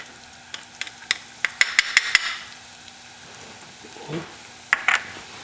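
Freshly chopped garlic and shallot hit a hot skillet, giving a soft sizzle mixed with sharp clicks and scrapes of a utensil stirring against the pan, close by and fairly quiet.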